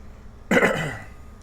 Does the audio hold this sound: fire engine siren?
no